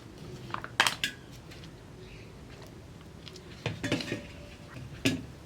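A large cooking bowl is handled during chicken marinade prep for chicken varattiyathu, giving a few brief metallic clinks and knocks at the start, middle and end, close by with quiet pauses between.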